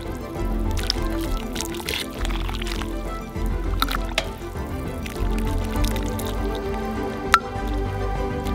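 Fish soup is ladled into a plate with wet squishing, dripping and pouring sounds, close and moderately loud, with small clinks and little talk.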